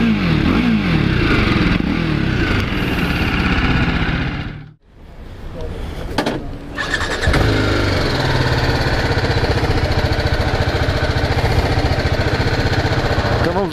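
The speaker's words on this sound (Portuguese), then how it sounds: "Esse é o som do escapamento." BMW G 310 R motorcycle exhaust runs loud and close with a steady buzzy drone, dips sharply for a moment near the middle, then picks back up and holds steady; no one talks.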